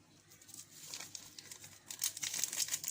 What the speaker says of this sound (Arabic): هفتح كيس الفانيليا ده